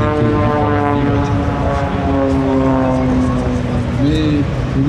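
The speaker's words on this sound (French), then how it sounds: "oh la belle image, Catherine poursuivant un Airbus." An aircraft at the Paris Air Show, with an Airbus in flight nearby, gives a loud sustained droning engine tone that rises and bends in pitch near the end, under French commentary.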